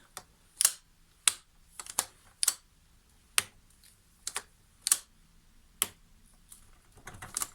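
Sharp switch clicks from a repaired Makita DUN500WZ cordless hedge trimmer come close up, about a dozen crisp clicks spaced irregularly, some in quick pairs, over quiet background.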